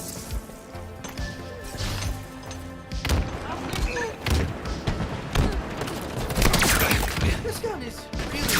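Halo Infinite gunfire, a run of rapid shots and impact crashes that builds louder toward the end, with game sounds and some speech mixed in.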